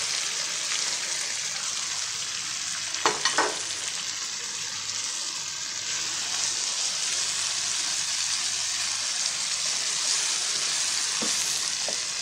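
Fried potatoes tipped into a pan with chillies give a steady, loud sizzle of hot oil, with a couple of brief scraping clatters early on and no talking.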